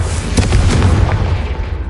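A Confringo explosion spell in Hogwarts Legacy goes off as a heavy, close boom with a rumbling body that fades out after about two seconds.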